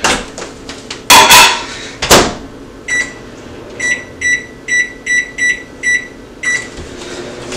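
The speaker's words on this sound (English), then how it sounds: "put it in the microwave for about a half an hour" A microwave oven hums steadily after a couple of loud clunks, then sounds a series of eight evenly spaced high beeps.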